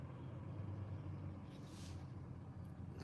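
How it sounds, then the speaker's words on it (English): Trucks idling at a truck stop, a low steady engine rumble heard from some distance with a brief hiss of air around the middle, no talk. "can you hear all the trucks out there?"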